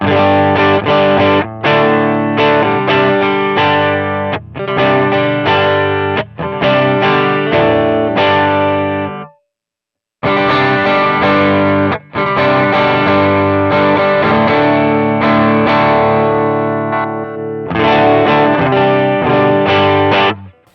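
Electric guitar played through Line 6 Helix 3.50 cab simulations with a distorted, chorus-tinged tone, loud and dense chord phrases strumming steadily with a brief pause midway, no voices.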